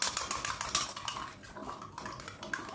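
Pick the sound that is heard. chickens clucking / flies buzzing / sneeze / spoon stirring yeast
spoon stirring yeast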